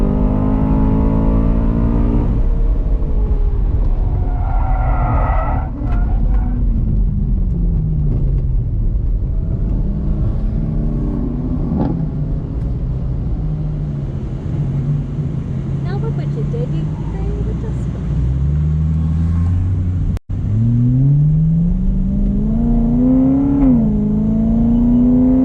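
A BMW E92 M3 lapping a race track, its engine droning and rising through revs with gear changes and pitch sweeps, loud and close throughout, with a voice talking over parts of the run.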